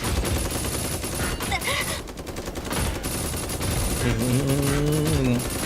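Heavy automatic gunfire in a PUBG-style battle royale game where players ride Gundam mechs, loud and continuous throughout, with mechanical whirring and shifting tones layered over the dense firing.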